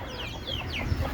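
Desi hens kept on a six-storey rooftop cluck steadily and close by in a short, unbroken stretch, with no talking.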